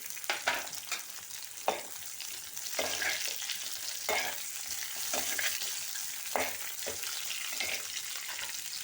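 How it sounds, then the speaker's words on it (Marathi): Onion slices and curry leaves sizzle and crackle in hot oil in a pan, a steady frying hiss with repeated sharp stirring scrapes, close and fairly loud throughout. "आता त्याच्यामध्ये मी ही कढीपत्त्याची पानं टाकते तुम्हाला आवडत असेल तरच तुम्ही कढीपत्ता टाका हा कांद्याच्या स्लाईस टाकते मी"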